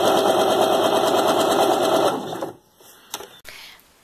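A sewing machine stitches fabric in a fast, steady mechanical whir for about two seconds, then stops, followed by a few faint handling clicks and rustles.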